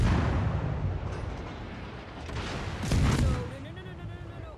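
Naval guns fire in a World of Warships battle, a dull booming barrage rumbling under steady game noise with a sharper blast near the middle, while a person talks over it.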